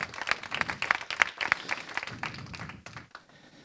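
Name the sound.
audience applause at an award ceremony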